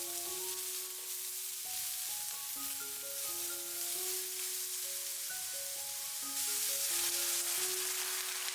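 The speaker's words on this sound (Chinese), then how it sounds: "把準備好的薑蒜末直接倒在鍋裡，清洗乾淨的白玉菇也倒下去， 快速翻炒均勻" Ginger, garlic and white beech mushrooms are stir-fried in a wok with a little oil, giving a steady sizzle that runs throughout beneath louder background music and swells toward the end.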